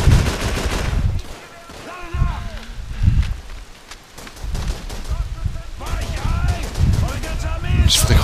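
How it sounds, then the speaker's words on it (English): Rapid gunfire bursts from the Call of Duty 3 video game, loud and repeated throughout, mixed with someone talking over the shooting. "Who's shooting me? Stop it."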